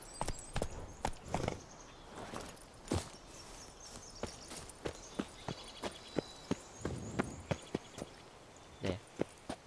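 Roach the horse in a video game, hooves clip-clopping in a quick, steady rhythm of close, sharp thuds with a little spacing between strides and no voices.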